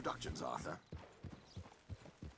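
Hooves of a horse clip-clop at a slow walk in Red Dead Redemption 2, a near, even series of about seven soft thuds following a brief moment of speech at the start.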